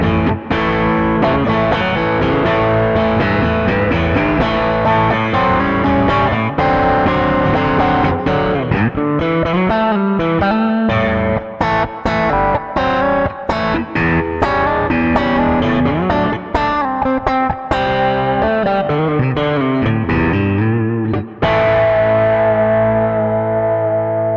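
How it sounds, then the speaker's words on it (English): Piccolo bass run through a modelled guitar amp, giving a loud, distorted and chorused tone; a continuous busy solo line of rapid notes and bends fills over twenty seconds with no talking. "you can play through a guitar amp or a modelled guitar amp"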